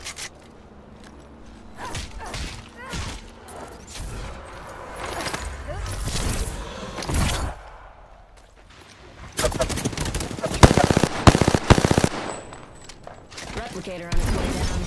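Apex Legends gunfire: scattered shots early, then loud rapid automatic bursts in the second half, with game voice lines and in-game sounds between the volleys.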